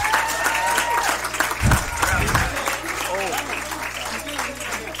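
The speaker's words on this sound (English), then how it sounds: "a big round of applause" A room at a school district meeting breaks into a round of applause for a student and her parents, steady crowd clapping under a low hum with voices and cheers mixed in.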